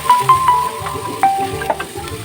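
Firm pechay stems stir-fried with upo in a pan, a loud close sizzle broken by several quick scraping stirs of a utensil.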